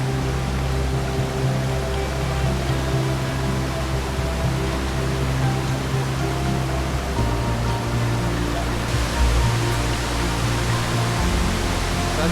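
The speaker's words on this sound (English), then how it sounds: "Look at this river with all the waterfalls." Rushing water of a river with several waterfalls at an ecotourism site in La Guajira, a steady broadband roar of falling and flowing water filling the scene, fairly loud and continuous with no talk.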